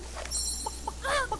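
A chicken in the Fable Anniversary game gives a few short clucks and one longer squawking call, close and fairly clear over a low, steady background hum.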